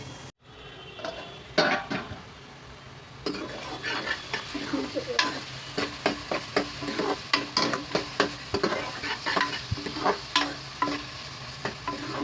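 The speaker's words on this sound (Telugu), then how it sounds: "ఇది మంచిగా ఫ్రై అయ్యే వరకు అయితే ఫ్రై చేసుకుందామండి" Food sizzles steadily in a pan while a utensil stirs and scrapes against it in repeated bursts, frying the tempering and chopped tomato for a goat trotters shorba.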